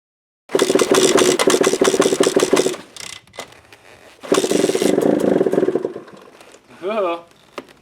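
A flooded two-stroke 150 XCW motorcycle engine sputters loud and close in two long, rough bursts of firing separated by a brief stumble, then dies to near silence with a short final blip.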